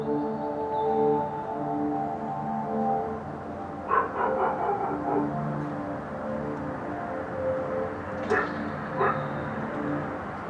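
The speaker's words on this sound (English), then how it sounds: "Now a dog barking." A dog barks a few times at a distance, short sharp bursts spaced apart over a steady sustained tonal background.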